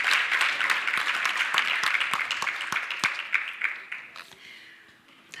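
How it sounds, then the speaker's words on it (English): Awards ceremony audience claps at a social justice scholarship event, a brisk burst of many hands that thins out and fades toward the end, fairly close. "A big round of applause."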